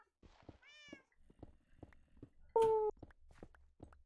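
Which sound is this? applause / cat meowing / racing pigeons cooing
cat meowing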